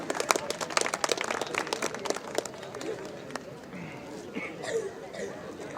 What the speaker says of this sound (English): a round of applause for Tata BlueScope Steel